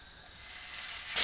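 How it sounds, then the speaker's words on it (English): Chicken pieces hitting hot oil in a pan give a steady, close sizzle that swells louder toward the end, with no voices. "It may well sizzle."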